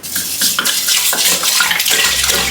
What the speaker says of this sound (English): We will now pour in the water.